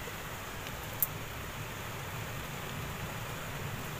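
Heavy rain pours into a room during a downpour, a steady, dense hiss that holds even throughout with one brief sharp tick, and no voices.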